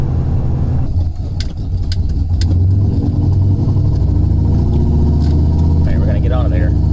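A turbocharged car accelerates on a road, its engine a loud, steady drone close by that holds for several seconds, with a few short higher tones mixed in.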